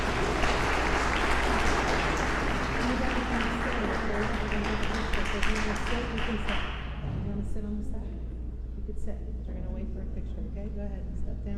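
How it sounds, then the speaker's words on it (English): Applause for a class of students at a St. Demetrios church ceremony, a steady crowd clapping for about seven seconds that thins out toward the end, with a low hum and some murmuring underneath. "Could we give them a round of applause?"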